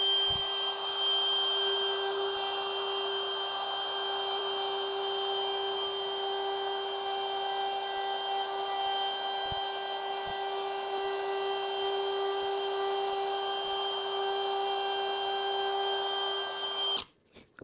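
A router hand-carving a wooden sign gives a steady high-pitched whine that runs unbroken for about seventeen seconds, loud and close, then cuts off abruptly at the end.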